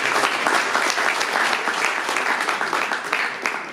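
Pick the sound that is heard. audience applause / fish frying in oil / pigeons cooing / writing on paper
audience applause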